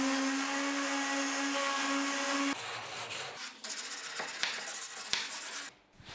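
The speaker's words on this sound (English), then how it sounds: "I also sand all the frame surfaces." Steady abrasive rubbing of a sander on wood, continuous and close, then shifting to rougher, uneven scraping strokes toward the end.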